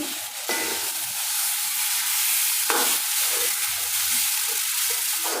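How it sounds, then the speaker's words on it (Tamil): Tomatoes with salt fry in a pan for a bachelor sambar, a steady broadband sizzle running throughout, with a couple of sharper scraping stirs of the spoon near the start and middle. "இப்போ இந்த தக்காளி வதங்கி வரதுக்காக கொஞ்சம் உப்பு சேர்த்துக்கிறேங்க இப்போ இதை கலந்து கொடுத்துக்கலாம்"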